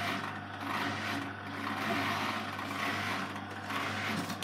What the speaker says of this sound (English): Pump's a bit groany.